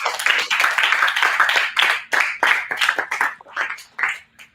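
An audience at a youth summit rises and claps for a speaker. The clapping is loud and close, with dense applause at first, then thinning into separate bursts of handclaps that fade toward the end.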